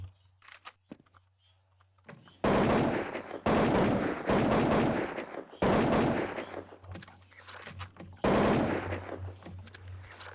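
Gunfire from the video game Counter-Strike 1.6 rattles in several loud, close automatic bursts of about a second each, separated by short pauses and faint clicks.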